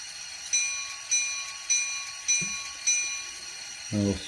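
A ScaleTrains SD40-2 model locomotive's electronic bell rings five times at an even pace, clear and close, followed by a brief low mechanical hum at the end.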